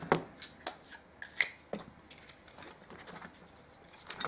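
Plastic clicks and snaps as the battery cover of a BUSHIDO bite alarm is opened, a handful of sharp, close taps and rattles over a quiet background.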